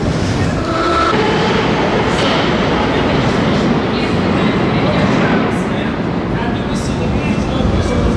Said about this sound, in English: So here we are in one of the Moscow subways